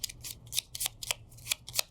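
Playing cards are shuffled during a Gloomhaven Jaws of the Lion board game session, a quick run of crisp riffling and snapping card sounds, close and soft, with no talk over it.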